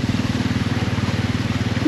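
A motorcycle engine idles and putters nearby on a flooded street, a low, steady pulsing throb that stays continuous through the short moment.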